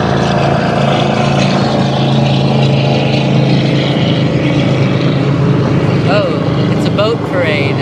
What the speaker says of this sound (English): Oh, it's a boat parade.